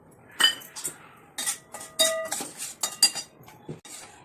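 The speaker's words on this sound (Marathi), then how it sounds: "रवा असा छान लालसर भाजून घेऊया तो पण." Semolina being roasted in ghee in a pan, heard as a short run of close metallic clinks and scrapes of a spoon against the pan, with no audible sizzle and no voices.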